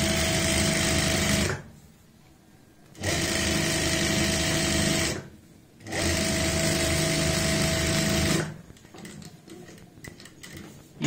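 A sewing machine stitches pintucks along folded fabric for a lace kurti neckline, running loud and steady in three bursts separated by short pauses, with a quieter stretch at the end.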